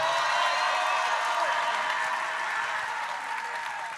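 Audience at a live comedy show claps in a thick, steady roar of applause, loud and continuous throughout with no gaps, easing slightly toward the end.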